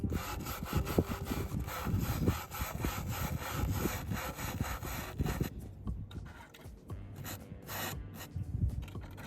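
Hand sanding on a wooden dresser, rapid rough back-and-forth scrubbing strokes, close and continuous, briefly easing off before resuming in uneven bursts.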